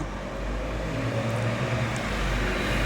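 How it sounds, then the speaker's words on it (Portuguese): Steady low rumble of car traffic passing on the street outside a house, a continuous broad wash of road noise with no talking. "Olha o barulho de carro."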